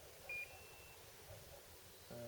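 A few short electronic beeps at different pitches from carp fishing bite alarms ring out, quiet and separated, over a faint lakeside background with no talking.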